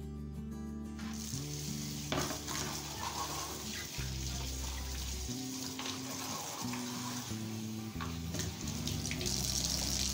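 Empty pickle and salt bottles are rinsed under a running kitchen tap. A steady stream of water splashes and hisses close by, with the pitch shifting as the bottles fill, beneath continuous background music.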